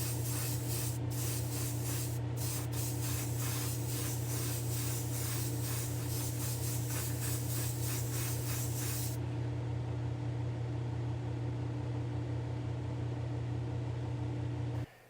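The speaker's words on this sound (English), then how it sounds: "I'm gonna go throw some primer on this, see how it looks" A spray gun hisses primer onto a car body in bursts, a loud steady airy spray over a constant compressor hum, stopping partway and leaving the hum running alone.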